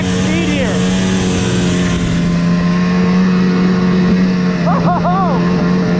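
A vintage snowmobile engine runs flat out at maximum speed, a loud, close, steady high-pitched drone with brief pitch swoops as it rides over bumps, while riders' voices come through in short bursts.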